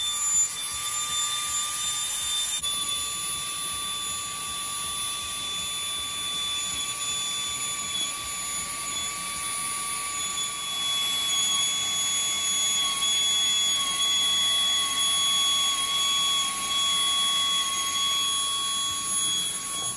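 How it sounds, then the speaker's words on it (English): Hand point engraving machine for jewelry work, running continuously with a high, steady whine and buzz that holds at a constant level with no speech. "I opened my hand point machine and let's go."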